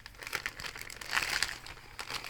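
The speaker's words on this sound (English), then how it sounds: "I need to cut this a bit more open, and then I can brute strength it" Plastic packaging for a PBT Cherry profile keycap set being cut and torn open, with close crinkling and rustling bursts running steadily through the moment.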